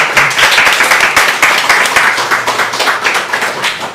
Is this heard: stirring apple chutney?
no